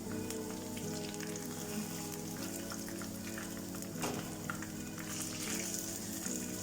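Zucchini fritters fry steadily in oil, a dense continuous sizzle with faint crackles, close and even throughout with no talking.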